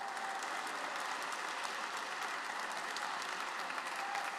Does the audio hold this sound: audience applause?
yes